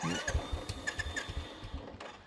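A ten-year-old Royal Enfield Classic 350 motorcycle idles, its exhaust note a steady, close, low thumping pulse with a faint mechanical clatter on top.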